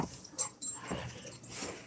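A dog whimpering and yipping in a home, with short high-pitched whines and soft breathy sounds spread across the moment, fairly close and moderately loud.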